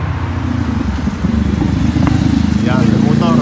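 A motorcycle engine drones steadily on a street in Australia, a rough low throbbing that grows slightly louder as it passes, with people talking over it.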